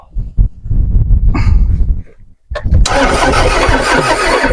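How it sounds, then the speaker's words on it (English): A Toyota MR2 engine cranks with a rapid rhythmic churn, pauses briefly, then catches and settles into a loud, steady running roar close to the listener. "So just ready to turn the engine."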